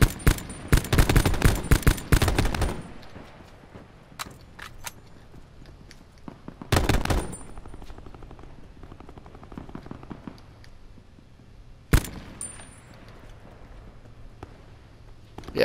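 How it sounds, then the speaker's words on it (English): AK rifle gunfire in Call of Duty Black Ops 4 Blackout, a fast burst of crisp shots, then scattered single cracks and another short burst, with a lone sharp shot near the end and quiet gaps between. "I'm long shotting people right now with an AK"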